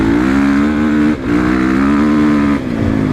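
A 2012 Honda CRF450 motocross bike's engine drones loud and close at a steady pitch, with two brief dips where the throttle backs off before it picks up again.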